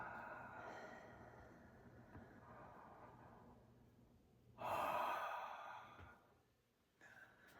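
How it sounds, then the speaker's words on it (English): Deep breathing during a guided circular breathing exercise, air drawn in through the belly and chest and released out the mouth; slow, close breaths with one louder, forceful exhale near the middle and a brief breath at the end. "You breathe in, it comes up into your belly, into your chest, and out your mouth."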